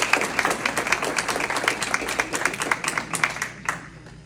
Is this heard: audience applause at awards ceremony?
yes